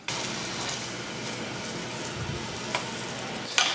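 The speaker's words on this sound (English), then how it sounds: "We can hear it sizzling away." Saganaki cheese fries in oil in a nonstick pan, giving a steady close sizzle with a few small pops and a light clink near the end.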